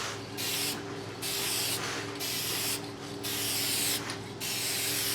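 A spray can lays a light coat of paint on the front cowling of a 2011 Ford Edge, giving close, loud hissing bursts of about a second each, separated by short pauses, with no talking.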